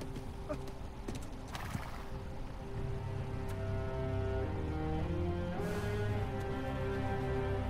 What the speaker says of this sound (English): Why did I not think of calling the horse?